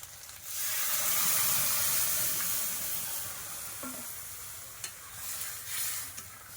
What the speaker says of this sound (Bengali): এবার ডাল ঢেলে দেবো দিয়ে দেবো সিদ্ধ করে রাখা ডাল